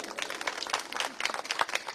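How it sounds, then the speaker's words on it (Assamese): A crowd claps in a public gathering, moderately loud, irregular hand claps blending into a continuous patter with a faint murmur of voices underneath. "আপোনালোকৰ বাবে হাত চাপৰি।"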